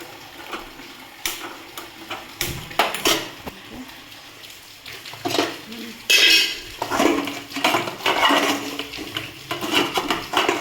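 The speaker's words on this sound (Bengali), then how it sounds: "কড়া চাপিয়ে দিলাম।" Metal cookware clatters on a home kitchen stove as a kadai is set down for cooking pumpkin chorchori, with scattered clinks, scrapes and knocks of utensils, some sharp and close, amid quieter handling noises.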